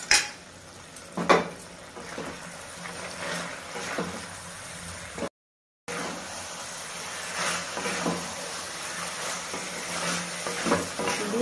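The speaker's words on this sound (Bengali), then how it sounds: "গাজরকে ভালো করে তেলের সঙ্গে কষাতে লাগবে" Carrots in oil get stirred in a pan, heard as scattered spatula clinks and scrapes against the metal over a soft, quiet background, with a few louder knocks and a brief silent gap midway.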